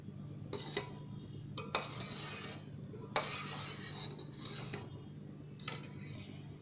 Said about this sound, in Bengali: হাতাটা কিন্তু নাড়িয়ে যেতে হবে।